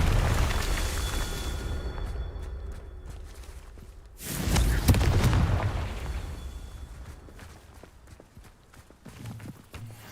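Confringo fire spell cast in the video game Hogwarts Legacy, a loud booming blast that bursts in at about four seconds and rumbles away over several seconds amid game footsteps and ambience.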